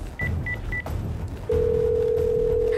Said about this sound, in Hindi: उसने अपना मोबाइल उठाया और पुलिस का नंबर डायल किया।